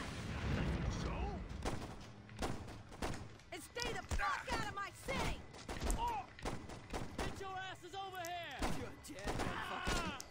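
Gunfire crackles during a dockyard shootout in the Saints Row video game, with repeated sharp shots and bursts cutting through over several seconds while people talk and shout over the fight.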